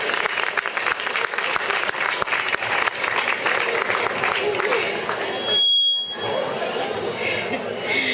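Audience applause for a speaker at a PechaKucha night, loud sustained clapping from a crowd with voices mixed in, briefly cut by a short high electronic tone before the clapping carries on.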